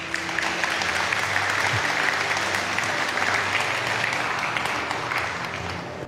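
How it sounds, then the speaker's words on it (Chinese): An audience at a lecture on China's currency sovereignty and the renminbi claps steadily and loudly for about six seconds, a dense, even wash of applause from a large crowd. "你们鼓掌说明你们理解了"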